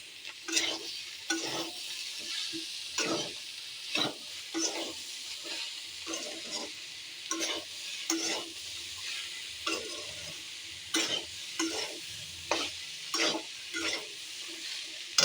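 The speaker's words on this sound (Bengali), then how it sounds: "এরপরে আবার নাড়াচাড়া করবো।" Banana stem (thor) curry is stirred in a frying pan, a spatula scraping in regular strokes every second or so over a soft background sizzle, close and clear with no talk.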